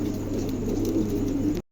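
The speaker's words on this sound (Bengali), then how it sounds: "এখানে এক জোড়া ব্লু বার্লেস রেসার হোমার আছে।" Cooing from a pair of blue bar racer homer pigeons, a low steady murmur that carries without a break for about a second and a half, then stops abruptly.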